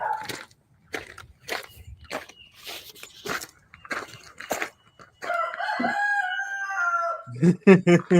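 Roosters crow and chickens cluck outdoors: short, sharp clucks and squawks come first, then a long, loud crow rings out near the end with more clucking around it.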